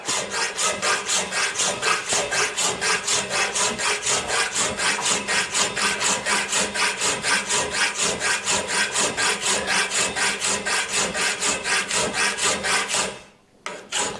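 Hand filing of metal car parts held in a vice during a Honda K swap mini supercar build, with dozens of fast, even rasping strokes, loud and close, stopping abruptly near the end.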